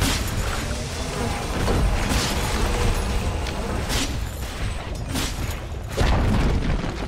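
In Dota 2, the Dire's bottom tower collapses during a TI13 match. Heavy booms and crashing impacts land one after another in an ongoing loud game clamor, with a few sharper bursts standing out.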